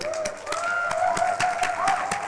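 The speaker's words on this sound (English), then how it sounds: "Big round of applause and thank you to everybody for attending" Audience applause at an Open Iftar gathering in Bradford, a run of distinct claps with a sustained tone running underneath.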